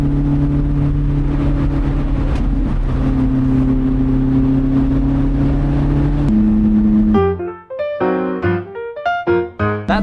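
A car winding along mountain roads, its steady engine drone and road roar holding close and loud for several seconds before giving way to a bright, stepped musical passage.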